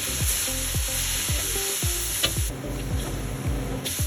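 Garlic, onion, ginger and shrimp paste sizzle loudly in a hot pan for Bicol Express, with a spoon scraping and stirring in rhythmic strokes over the constant frying hiss.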